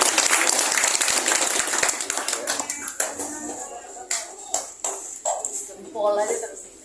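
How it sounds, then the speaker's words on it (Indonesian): Applause from a gathering at a Balinese Hindu community pilgrimage event, clapping loud at the start and thinning into scattered claps, with voices talking over it. "Oke, tepuk tangan."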